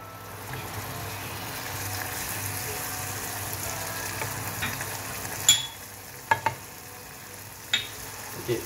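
Butter hitting hot melted sugar caramel for salted butter caramel: a steady frying sizzle runs throughout, with a few sharp clinks and scrapes of a utensil against the pan near the end.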